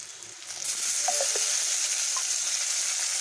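Chopped onion frying in a pan for a village-style prawn and vegetable curry, with a steady close sizzle that swells after a moment, plus a few faint clinks of a utensil.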